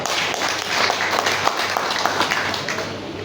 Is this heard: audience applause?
yes